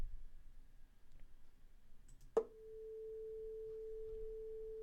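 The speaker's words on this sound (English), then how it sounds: "This is just using the web audio API to generate a sound." Steady pure electronic tone generated in JavaScript with the Web Audio API, switching on after a sharp click and holding at an even level to the end, alone over a faint background.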